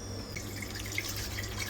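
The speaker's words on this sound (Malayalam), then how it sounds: "നല്ല മഴയൊക്കെയാണ്, നല്ല മഴയാണ്." Heavy rain falls in a steady, even hiss with soft drips, fairly faint and continuous throughout.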